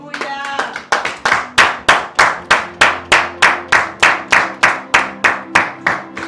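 A church congregation claps in unison to acclaim a Bible verse, a loud, steady rhythm of sharp claps at a regular pace, with no voices over it.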